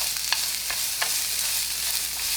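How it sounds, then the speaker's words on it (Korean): Carrots stir-fry in a frying pan with a little cooking oil, giving a soft continuous sizzle with a few light scraping stirs, close and fairly quiet, with no talking. "프라이팬에 식용유 아주 조금 두르고 당근을 볶아주세요."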